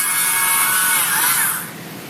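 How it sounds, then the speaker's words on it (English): A hand saw cuts through wood being carved into a wood spirit wizard figure, giving a steady, close, bright rasping that fades toward the end, with no talking. "the saw will definitely help me get some of it off"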